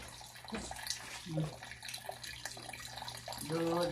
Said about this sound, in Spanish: Salpica el agua.